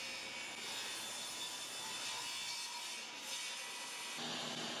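A power saw rips through lumber boards being cut to length for a fireplace mantel, a steady high whining buzz that holds through the cut with a brief shift near the end; no speech.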